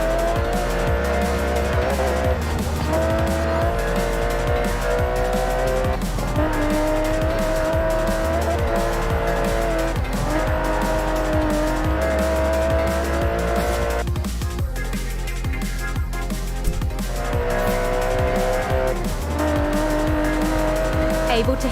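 An Aston Martin DB11 with a 5.2-litre twin-turbo V12 howls through repeated revs and gear changes in the Forza Horizon 4 racing game, with tires squealing and skidding through corners under a continuous loud engine note.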